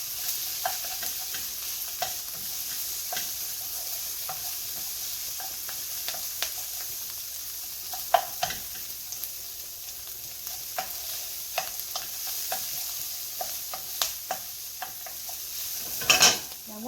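Onions and mushrooms sauté in olive oil in a pan for shrimp and mushroom Marsala, a steady soft sizzle broken by scattered utensil scrapes and stirring knocks, with a louder clatter near the end and no talking.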